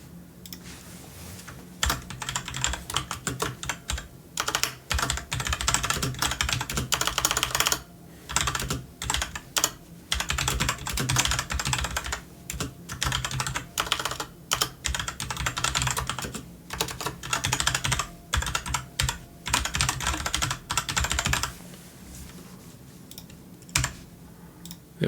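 Rapid, sustained typing on a computer keyboard, loud and close, with dense clattering keystrokes broken by a few short pauses, no voices.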